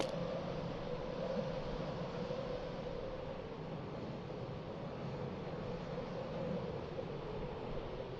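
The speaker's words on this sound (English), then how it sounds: "we hear the rescue helicopter that will hopefully take us away from the city" A rescue helicopter in the video game Disaster Report 3 drones steadily overhead, a constant, fairly faint engine rumble and roar that holds unchanged for about eight seconds with no voices.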